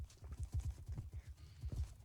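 A horse in a video game clip-clops along at an even pace, its hooves giving a quick run of soft, close thuds with no voice over them.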